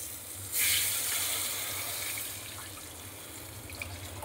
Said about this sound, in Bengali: এবার আমি জলটা ঢেলে দিচ্ছি